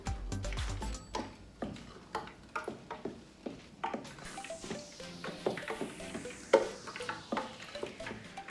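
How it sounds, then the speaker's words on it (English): A utensil scrapes and taps around a frying pan in quick, irregular strokes as a Nigerian akara mixture is stirred, with faint sizzling underneath; fairly quiet and close. "So I'm just stirring this together."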